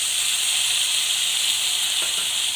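Tomato pieces hit hot oil with lightly fried garlic in a pan, setting off a steady, loud hiss and sizzle that holds evenly throughout with no talking.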